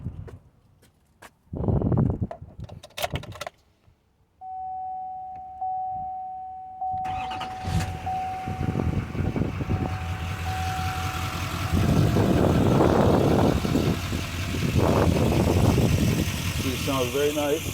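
A 2012 GMC Duramax 4x4 pickup cranks and fires up after a few clicks and a warning chime, then settles into a steady diesel idle that runs loud and close, with a voice talking over it.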